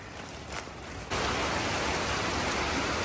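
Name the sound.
heavy rain falling in forest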